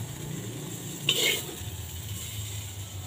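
Okra added to a hot pan while cooking ginisang okra at home, a brief burst of sizzling and clatter against a steady low background hum, fading back to quiet frying.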